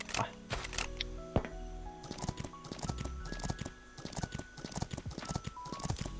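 Horse hooves clip-clop in the survival game Last Island of Survival, a quick, steady patter of hoof taps running throughout over sustained game tones and ambient noise.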